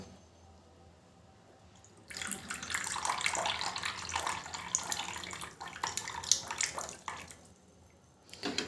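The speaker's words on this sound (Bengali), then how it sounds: "এই বাটির মধ্যে কিন্তু বন্ধুরা ছেঁকে নিয়েছি" Boiled fenugreek water is poured through a strainer into a bowl, giving a steady close splashing and trickling stream that runs for several seconds after a quiet start, then thins out toward the end.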